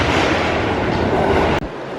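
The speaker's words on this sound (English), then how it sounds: "This is what the trains look like." A train pulls into a Tokyo station platform with a loud, steady rumble of wheels and carriages that fills the space and cuts off abruptly after about a second and a half.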